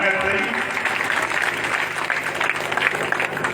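A crowd at a political rally in Ballia claps steadily and densely for several seconds, a continuous wash of applause with a voice faintly over it.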